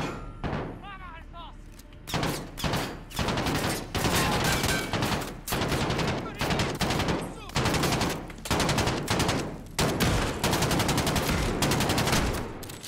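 Sustained automatic gunfire in Call of Duty: Modern Warfare, loud and close, with dense repeated bursts of rapid shots that go on almost without a break.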